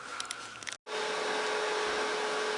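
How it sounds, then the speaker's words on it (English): Four-pin 6-volt vibrator in a 1947 Chevrolet car radio buzzing as a steady hiss-like hum, briefly cutting out, then resuming with a constant tone. "we got the second vibrator now working"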